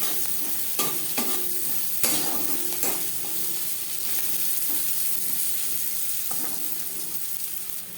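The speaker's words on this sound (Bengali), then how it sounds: "পেঁয়াজ খুব ভালো করে ভাজতে হবে" Sliced onions and split green chilies fry in a little oil, sizzling steadily up close while a spatula stirs them, with several sharp scraping knocks spaced through the sizzle.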